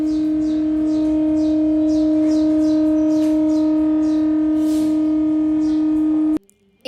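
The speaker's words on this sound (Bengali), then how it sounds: "ঈদের সকালের সব থেকে বেস্ট পার্ট হচ্ছে এই সাইরেনটা।" A civil-defence style siren blares on Eid morning in Barisal, Bangladesh, holding one loud steady wailing tone for several seconds before cutting off abruptly, with faint chirping in the background.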